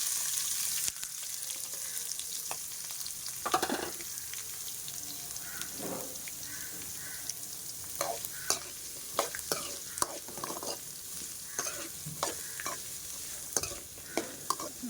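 Two green chillies and three chopped onions sauté in a pan with a quiet, steady sizzle, broken by intermittent scrapes and clicks of stirring.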